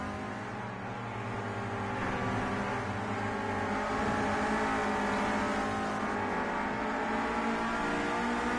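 Clio Cup race cars running nose to tail in the slipstream at Snetterton, one tucked in behind another for a tow, a continuous loud engine drone with rising and falling revs and no voices.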